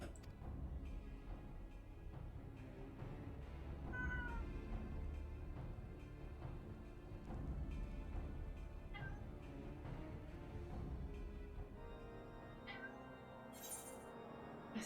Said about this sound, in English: I swear that cat.